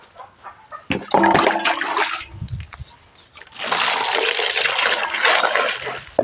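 Water splashes and pours while a chicken's drinking water is changed, first in short sloshing bursts, then a long steady gush, close and loud, with faint clucking underneath.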